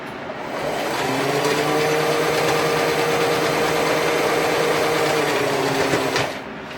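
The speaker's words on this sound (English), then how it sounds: "So I'm going to go ahead and sew that shut just as close to the edge as I can." A sewing machine stitches a fabric phone pouch shut along its edge, running steadily for about five seconds with a constant motor whine, starting and stopping abruptly.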